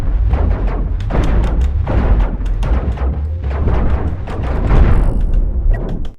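Spaceship guns blast away in space combat in Cosmoteer, a steady barrage of booming shots and thudding explosions that runs loud and continuous throughout, with no voice over it.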